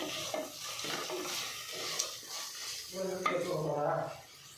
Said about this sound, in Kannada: ಜಿಂಜರ್ ಗಾರ್ಲಿಕ್ ಪೇಸ್ಟ್ ಹಾಕ್ಕೊಂಡಾಗ ಲೋ ಫ್ಲೇಮಲ್ಲಿ ಇಟ್ಕೊಂಡು ಹಾಕ್ಕೊಂಡು ಫ್ರೈ ಮಾಡ್ಕೋಬೇಕು